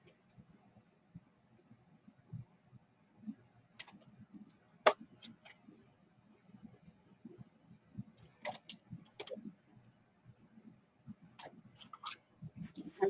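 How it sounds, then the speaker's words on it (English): Chipboard is cut at a small mitre-like angle for a papercraft demonstration, giving a few quiet, sharp snips and clicks spaced irregularly over soft background handling noise. "from the chipboard, right here, we want to cut a little angle just as if you're mitering it"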